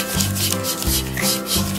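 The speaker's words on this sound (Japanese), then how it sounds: "はい、シュッシュ。2本で磨いてあげよう。" A toothbrush rubs back and forth over a toy's teeth in quick, close scrubbing strokes, a bristly swishing rhythm with a faint background tone.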